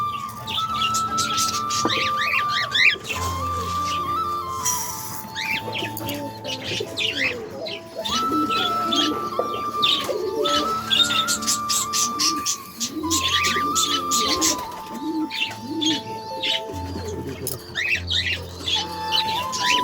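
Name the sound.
cockatiels calling while coming to eat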